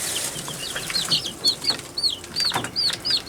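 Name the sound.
sickly chicken in incubator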